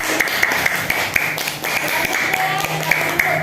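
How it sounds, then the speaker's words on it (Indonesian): Classroom of students clapping for a group presentation: a spread of sharp, scattered claps at moderate level, with voices chattering underneath throughout. "Tepuk tangan lagi."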